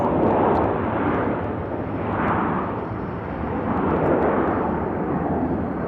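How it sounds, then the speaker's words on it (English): A WestJet airliner rolls on the runway after landing at Nashville International Airport, producing a broad, steady jet roar that swells and fades slightly as it carries from a distance. "As WestJet has just landed."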